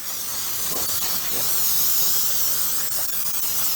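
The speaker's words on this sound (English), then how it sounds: "I'm going to heavily flour it and spray it." An aerosol can of cooking spray hisses into a square baking pan, a close, bright, continuous spray lasting several seconds with only slight shifts in strength.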